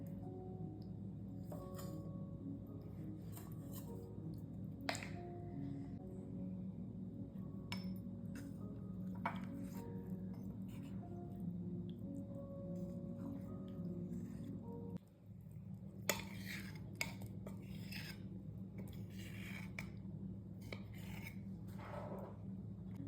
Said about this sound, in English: Now I'm going to measure my almond butter